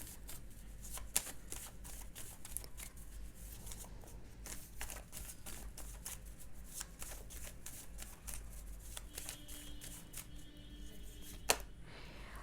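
Tarot cards are shuffled and drawn in a quiet room: a continuous run of close, crisp riffling and flicking, with a few sharper card snaps standing out.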